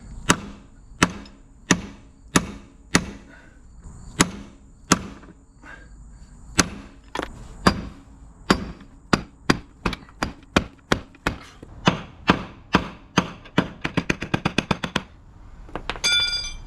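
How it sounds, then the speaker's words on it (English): A metal bearing is being hammered into place on a 1989 Lamborghini Countach, with sharp, ringing strikes that start slow and spaced, then quicken into rapid bursts near the end, close and clear with no talking. "you should be hitting it until you hear the sound difference"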